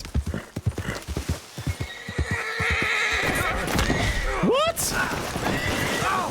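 Clip-clopping hooves and a loud whinny from a horse in the video game Red Dead Redemption 2, with a voice speaking briefly over the galloping.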